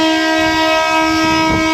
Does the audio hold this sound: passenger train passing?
yes